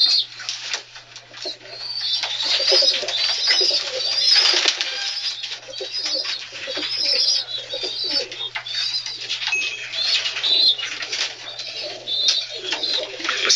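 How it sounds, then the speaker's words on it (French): Racing pigeons kept by breeders in the mining basin of northern France in the 1970s, a dense chorus of cooing with bursts of wing flapping and faint voices underneath. "Vos pigeons, par exemple, vous les élevez vous-même?"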